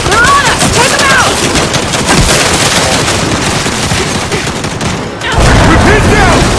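Turret gunfire in the Gears 5 video game, loud rapid bursts of automatic fire and heavy impacts in dense sustained volleys, dropping briefly near the end before resuming, with shouted voices mixed in.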